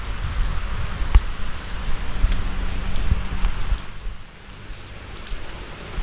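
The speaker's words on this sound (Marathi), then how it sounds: "पाऊस पडतो आहे." Rain falls steadily outside a house, a dense hiss of drops on surfaces with occasional nearer drips and taps, easing slightly toward the end, with no one talking.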